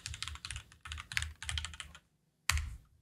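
A curl command is typed on a computer keyboard in quick clicky runs of keystrokes, nearby and fairly quiet, with a short pause before a final firmer key press.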